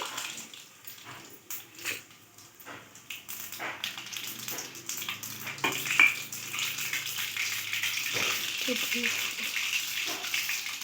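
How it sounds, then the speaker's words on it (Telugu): Mustard seeds hit very hot oil and sizzle, a close, rising hiss with scattered pops and crackles, while a person talks over part of it. "ఆయిల్ బాగా వేడైపోయింది. ఇప్పుడు ఆవాలు వేసుకోవాలి"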